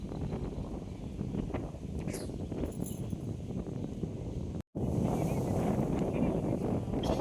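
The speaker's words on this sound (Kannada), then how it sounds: "ಗಾಳಿ ತಳ್ತಾ ಇದೆ" Steady wind buffets the microphone with a continuous low rumble and gusty roar, cutting out for a split second midway.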